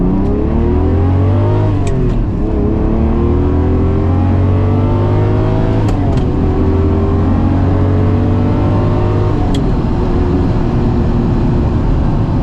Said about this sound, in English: let's do an acceleration run